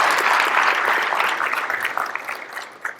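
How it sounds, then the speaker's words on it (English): Crowd applause at a sheriff's office swearing-in ceremony, loud and close, a dense burst of many hands clapping that slowly tapers off into scattered claps over about three seconds. "Please, big round of applause."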